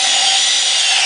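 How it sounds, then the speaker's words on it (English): A Festool drill fitted with a countersink bit bores into wood, giving a steady, loud, close grinding whir with no talk. "So what I'm using here is the Festool countersink bit."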